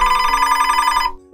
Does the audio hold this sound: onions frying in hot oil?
no